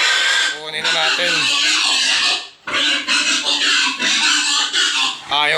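Pigs on a farm oink and squeal loudly and almost without pause as they are bought and loaded, with raised voices talking over the noise and a brief lull partway through.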